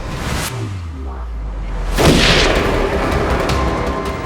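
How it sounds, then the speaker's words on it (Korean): Gunfire echoing across an island in a dramatized TV reenactment of a 1971 dawn uprising, with a low rumbling boom followed by a sharp crack and long reverberant tail. "섬 여기저기서 총성이 들려오고 있어"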